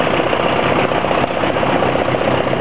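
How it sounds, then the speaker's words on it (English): A 1939 Farmall F20 tractor engine runs steadily during a tractor parade, a loud, continuous low chugging idle heard up close with a faint knocking rhythm. "1939 F20 Farmall."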